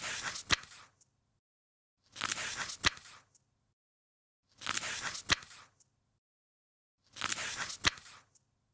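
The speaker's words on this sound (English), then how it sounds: "A present button allows you to display each page like a slideshow, complete with a realistic page turning effect" Four evenly spaced page-turn swishes from an animated slideshow's page-flip effect, each a crisp papery rustle ending in a sharp snap, with silence between them.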